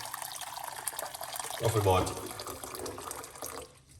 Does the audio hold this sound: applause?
no